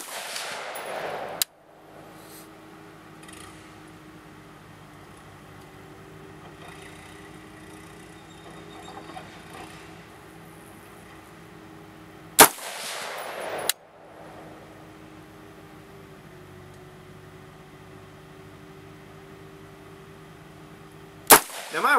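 A flat-top rifle fitted with a Leatherwood CMR 1x4 illuminated scope fires at a shooting range: a few sharp, loud reports spaced far apart, with a steady low background hum between them.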